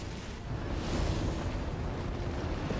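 A column of fire spell in Total War: Warhammer 2 erupts during a siege battle, a steady roaring blaze with deep rumbling and crackle that swells slightly after the first second and holds loud to the end.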